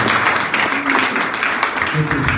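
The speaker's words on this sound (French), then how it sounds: "Un applaudissement encore une fois pour les femmes" A crowd at a Catholic Mass marking a football club's 50th anniversary keeps up a dense, steady wash of applause that lasts throughout, with a few voices mixed into the noise.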